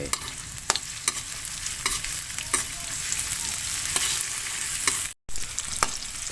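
Garlic frying in a pan gives a close, steady sizzle with scattered stirring clicks and scrapes, a brief gap near the end, then the frying picks up again.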